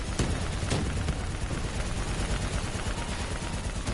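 Sustained heavy gunfire aimed at a VTOL aircraft in a dense, continuous barrage of overlapping shots and rumble, with no clear gaps between them.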